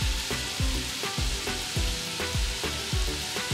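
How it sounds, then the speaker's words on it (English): Tomato paste sizzles in a soup pot for chicken soup, a steady close hiss of frying. Rhythmic stirring scrapes and taps repeat about every half second. "I'm gonna add a little tomato paste in here."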